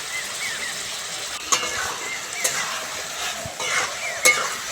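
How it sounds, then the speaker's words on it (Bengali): Chilli powder and turmeric fry in a pan for ghugni, a soft steady sizzle broken by a few spatula scrapes and knocks against the pan, close up, with no voices. "ভালো করে কষে নেবো"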